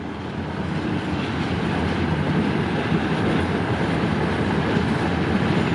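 Steady rumbling train noise with a faint rhythmic clatter, continuous and fairly loud, as a locomotive moves empty cars along tracks nearby in Bang Sue rail yard, Bangkok; no voices.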